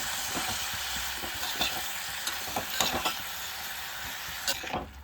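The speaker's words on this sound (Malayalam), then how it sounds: "നന്നായിട്ടൊന്ന് ഇളക്കി ഒന്ന് വയലാൻ വേണ്ടി നമുക്കൊന്ന് വെയിറ്റ് ചെയ്യാം" A pan of green tomato thoran, a Kerala stir-fry, is stirred: soft sizzling underlies a series of close spoon scrapes and taps against the pan, with no voices.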